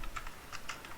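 Rapid computer keyboard typing while entering form code, close and clear, with several distinct clacking keystrokes in about a second and no speech.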